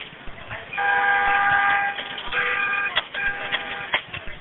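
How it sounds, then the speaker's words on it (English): A car horn honks in several long blasts with short gaps, followed by a few quick shorter toots, sounding somewhat distant. "I don't know if you can hear the honking."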